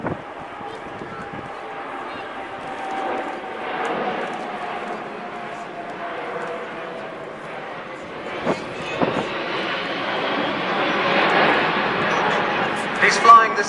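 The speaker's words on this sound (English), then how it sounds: "for a slow-speed flyby, the aircraft will be flying on the Alpha Limiter at around 105 knots" An Airbus A380 makes a slow-speed flyby at around 105 knots, flaps extended, at EAA AirVenture Oshkosh airshow, its broad jet roar building steadily louder as it passes while an announcer talks over the sound.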